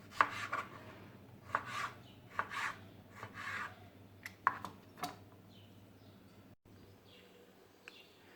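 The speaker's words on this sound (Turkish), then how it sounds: "Çileğimizi doğradık." A knife taps a cutting board in irregular bursts, several quick chops through strawberries with pauses between, near and fairly crisp against a quiet background.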